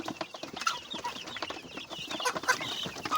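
Red desi chickens, two months old, cluck on a village farm in a busy, overlapping flock chatter at close range, with short calls rising and falling throughout.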